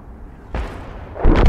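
An SU-5 tank in a video game fires its gun twice, each a loud, close, booming blast, the second heavier and followed by a rumbling tail, over a low engine hum.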